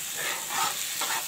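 Beef pieces coated in garlic and ginger fry in a pan for a chutney, giving a steady broadband sizzle with soft stirring scrapes, close and moderately loud, with no voices.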